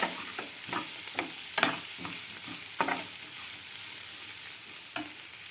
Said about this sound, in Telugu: ఉట్టి వెల్లుల్లి చితకొట్టి వేస్తున్నానండి